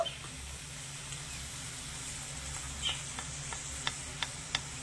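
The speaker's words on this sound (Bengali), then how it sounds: "এরকম একটা ছাকনা দিয়ে এভাবে করে একটু ছেঁকে তুলে নেব।" Watermelon rind murabba lifted with a sieve out of hot sugar syrup, giving a soft steady sizzle and low bubbling with a few sharp clicks of the sieve against the pan near the end.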